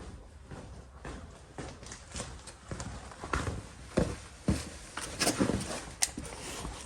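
Footsteps walking back to a workbench during a Mazda engine swap, a series of uneven thuds and shuffles on a hard floor, moderately close, with a few sharper knocks near the end.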